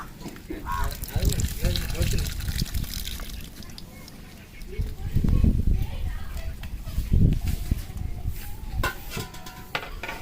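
Water pours and sloshes into a large pot for a 5 kg chicken biryani, in uneven surges and splashes while a person talks over it.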